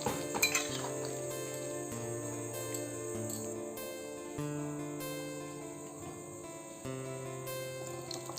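Kabuli chana ghugni stirred in a pan with a spoon, with soft clinks and scrapes of metal on the pan under a quiet, steady background.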